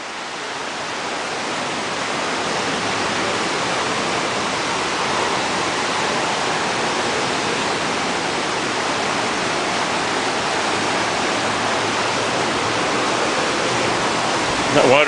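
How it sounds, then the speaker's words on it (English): Fast-moving water at a kids' fishing pond in Boulder, Colorado rushes in a steady, loud, unbroken roar that holds from start to finish. "That water's moving right along."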